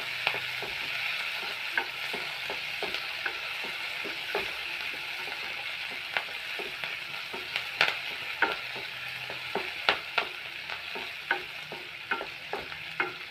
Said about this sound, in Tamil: லைட்டாக நல்லா வதங்கட்டும்.